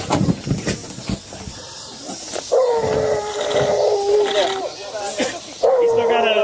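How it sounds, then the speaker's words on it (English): A police dog barks, whines and yelps insistently at close range during a tense police standoff with an armed man, its agitated cries running under shouted commands from officers. "Dog's coming through."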